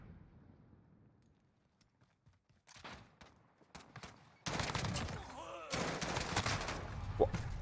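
Sniper gunshot in Modern Warfare gameplay: a sudden loud crack of gunfire, followed by dense sustained firing and action noise that continues to the end.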